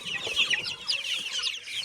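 Many small chicks peep rapidly and continuously while eating egg, high-pitched overlapping chirps close by.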